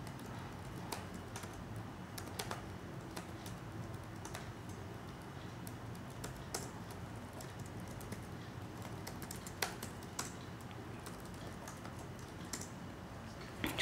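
Code is typed on a computer keyboard in a text editor, with quiet, close keystrokes tapping in irregular bursts and short pauses throughout.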